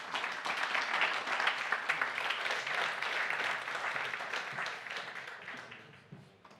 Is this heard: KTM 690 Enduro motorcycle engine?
no